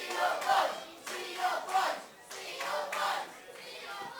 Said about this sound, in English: This crowd still chanting for the Seel boys.